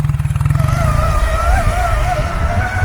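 People imitate a motorcycle engine with their voices, a loud, close, continuous buzzing drone with a warbling pitch, mimicking an old trials bike.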